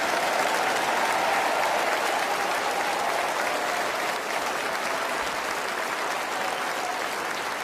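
A large audience applauds a newly installed Archbishop, steady sustained clapping filling the whole stretch at a fairly loud, even level with no voices over it.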